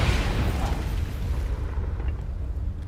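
The Confringo explosion spell in Hogwarts Legacy sets off a loud, broad booming blast whose rumble fills the start and slowly fades over a few seconds.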